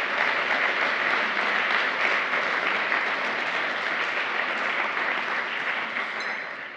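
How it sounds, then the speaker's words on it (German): An audience claps at the end of a German lecture on whether Germany's energy transition can succeed, a dense, sustained roar of many hands that holds steady and then fades slightly at the close. "Applaus"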